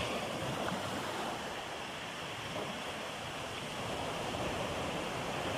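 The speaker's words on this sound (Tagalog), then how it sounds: "Abot na ng alon. Ayan yung tubig oh." Steady rushing sea waves reach the shore during a typhoon, washing in without pause, a soft broad hiss of water with no voices.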